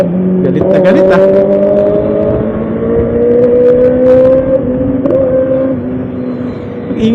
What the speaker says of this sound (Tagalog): Ang ingay talaga ng Ninja, no? Mga Kawasaki talaga, ingay-ingay nyo.